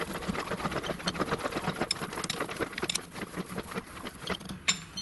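A lathe in a workshop shortens a bushing for a tractor, giving a dense, steady machining noise with scraping cuts and small metallic ticks and clinks running throughout, fairly close and with no voices.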